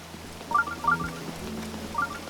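A shrine in Zelda: Breath of the Wild gives off a chiming, ringing tone in a few repeated bright pulses over a steady low game background, with no one talking.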